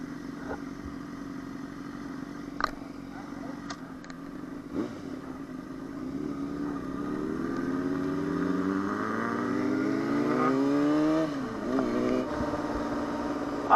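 A 2008 Suzuki GSX-R 600 sport bike engine idles and then revs, its pitch rising and falling in several sweeping climbs, with a few sharp clicks and knocks nearby.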